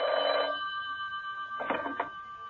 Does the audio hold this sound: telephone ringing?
yes